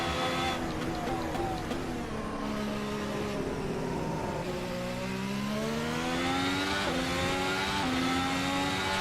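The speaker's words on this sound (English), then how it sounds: "There's full revs on the engine." A 2017 works Ferrari race car in the Assetto Corsa racing game, its engine screaming at high revs near 11,600 RPM, with rising pitch sweeps through repeated upshifts, loud and continuous from inside the car.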